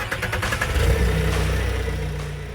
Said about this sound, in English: Take the key located in the operations manual box and start up the engine.